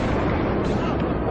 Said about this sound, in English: That was obviously an explosion that you just heard.